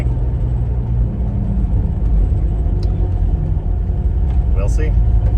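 A car engine idles steadily to burn off fuel left in the tank before the tank is dropped, a low continuous rumble close by while someone talks over it.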